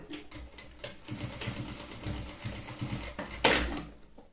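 Sewing machine running a short reinforcing seam beside a zipper on a trapezoid fabric pouch, a steady rapid stitching rhythm up close, ending in a brief sharp burst.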